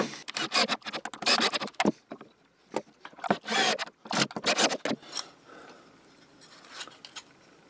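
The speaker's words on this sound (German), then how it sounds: "Und setze dann in die Löcher hier Schrauben rein. Verschrauben wir das Ganze mal." Screws are driven into a wooden jig, producing several close bursts of whirring and grinding as each screw bites into the wood, separated by short pauses, with no talk.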